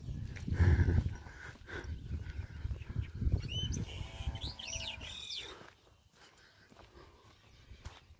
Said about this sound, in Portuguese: escuta o cantar dos passarinhos